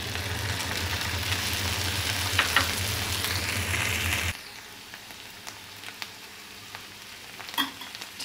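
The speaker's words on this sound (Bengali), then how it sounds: "এখন আমি যে চিকেনগুলো রান্না করেছিলাম সেই চিকেনগুলো দিয়ে নেব।" Cooked chicken tipped into a pan of frying okra, a loud hiss of sizzling oil for several seconds that suddenly drops to a quieter simmer with occasional scrapes and clicks of stirring.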